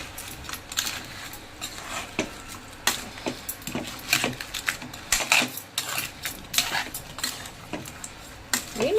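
Crab semi-gravy being stirred in a pan, with repeated metallic clinks and scrapes of a spoon against the pan in an uneven rhythm, close and fairly clear.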